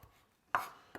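Two sharp knife strikes chop parsley on a cutting board, the first louder with a short ringing tail, the second lighter, close and alone.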